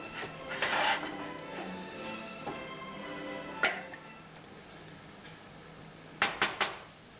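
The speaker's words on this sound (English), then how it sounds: "So now I'm stirring the butter a little to help it melt." A utensil stirs melting butter in a pan, making occasional clinks and taps against the metal in small clusters, separated by a low, steady background hum. Quiet and close, with no speech.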